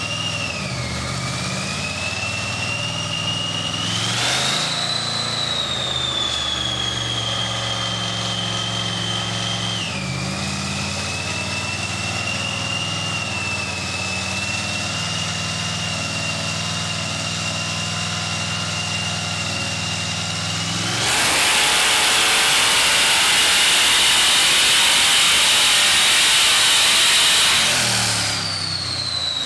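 The supercharged LSX engine of a C10 truck roars steadily on a dyno with rising and falling pitch, then surges into a harsh, broadband full-throttle blast before easing off near the end.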